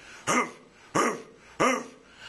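A voice mimics a dog howling three times in a row, each a short rising-and-falling yowl with a gap between, loud and close, after talk about the Buffalo Bills and a dog pound.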